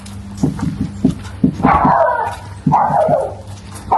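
A dog whimpers and cries at close range, high whining yelps rising and falling in two drawn-out bouts, with brief barky yips between.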